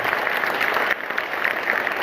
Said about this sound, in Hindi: एक बार दिल खोल के बाबा साहब डॉक्टर भीमराव अंबेडकर के लिए जोरदार ताली बजाइएगा